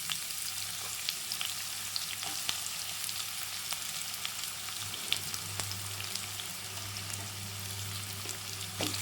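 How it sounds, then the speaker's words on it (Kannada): Chopped onions frying in a pan with urad dal while making upma, a steady close sizzle with faint crackles running throughout, no talk over it. "ಈಗ ಇದಕ್ಕೆ ಕಟ್ ಮಾಡಿಟ್ಟ ಈರುಳ್ಳಿ ಹಾಕ್ತೇನೆ."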